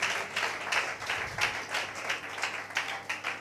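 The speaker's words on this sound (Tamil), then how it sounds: "கையெல்லாம் நல்லா தான் தட்டுறீங்க." A church congregation claps hands together in a sustained, rhythmic wave of applause at moderate volume, with no voices rising above it.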